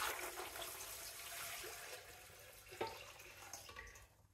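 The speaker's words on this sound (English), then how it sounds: "you need 8 cups of water to go in the canner" Water gushes steadily into a Nesco Smart pressure canner being filled for quarts of home-canned collard greens, a continuous splashing rush that eases toward the end.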